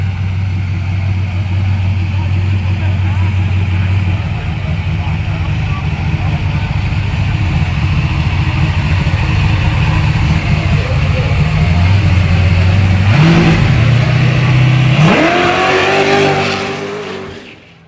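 A car's engine idles with a loud, rough low rumble during a dry hop, then revs sharply twice near the end before cutting off.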